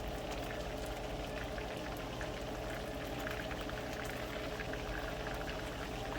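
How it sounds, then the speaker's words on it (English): Snapper fillets frying in a pan of hot oil for escovitch fish, giving a steady, dense sizzle with fine crackling that stays even and close throughout. "I'll be frying them evenly on both sides"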